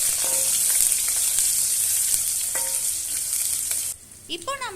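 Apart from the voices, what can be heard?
onion and garlic sautéing in oil for tamarind curry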